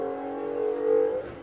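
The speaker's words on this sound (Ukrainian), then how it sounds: "Яка гонча машина." A red racing car's engine holds a steady droning revving note that swells slightly louder toward the end before easing off.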